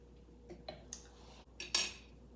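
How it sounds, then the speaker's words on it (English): A knife slicing sponge cake for tiramisu into half-inch-thick pieces, a few soft, quiet cuts and taps against a board with a sharper scrape toward the end, close and alone without talk. "You cut some slices, like about, I would say about 1/2 inch thick."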